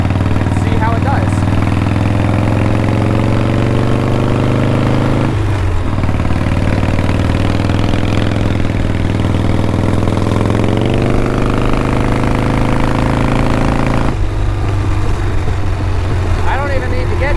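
Harley-Davidson motorcycle with drag pipes accelerating uphill in third gear, its engine a loud, steady, rumbling drone with pitch rising through the pull and a brief dip midway, heard close throughout.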